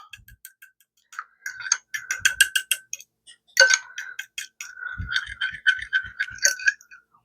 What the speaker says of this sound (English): then we're going to mix this up